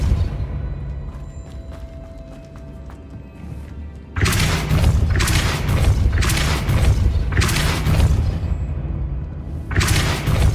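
Depulso force spell from Hogwarts Legacy gameplay, a quiet ambient stretch that suddenly breaks into a series of loud, close booming blasts and thuds repeating with short gaps.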